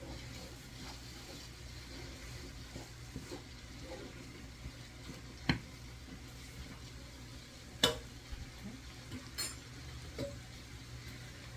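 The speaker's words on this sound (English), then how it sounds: "Just stir it in first." Onions stirred in a pan with salt, a soft, faint stirring and low sizzle with scattered light scrapes and a couple of sharper taps of utensil on pan, steady background hiss throughout.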